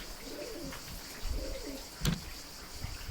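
Soft, low pigeon coos repeat in a couple of rolling phrases, with a brief sharp sound partway through against a quiet outdoor background.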